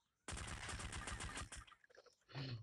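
Rapid automatic gunfire from a video game weapon, a loud sustained burst of closely spaced shots lasting over a second, followed by a brief trailing pause and another short loud blast.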